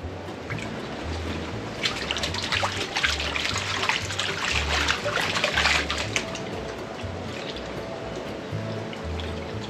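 Gold panning with a pan heavy in black sand: water sloshes, trickles and dribbles continuously as the pan is worked, close up, with soft rhythmic swishing and no talk.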